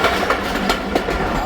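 A Khyber Mail passenger train runs along the ML1 railway line near Jahangir station in Pakistan, giving a steady, loud rolling rumble with faint rhythmic clatter from the wheels and no talk.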